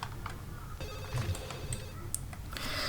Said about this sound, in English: she's gonna come over and answer the phone if it's still ringing